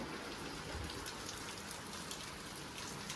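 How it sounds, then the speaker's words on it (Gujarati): Heavy rain falls in Surat as a dense, even hiss of countless drops striking surfaces, steady and unbroken, fairly quiet and with no voices. "2 દિવસ લગાતાર સુરતમાં વરસાદ આવે છે"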